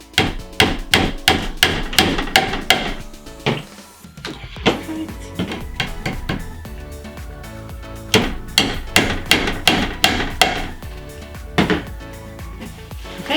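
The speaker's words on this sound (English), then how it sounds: "These are just tiny little nails. I'm going to hammer in" Quick bursts of sharp hammer taps strike small nails into wood, coming in runs of several blows with short pauses between them.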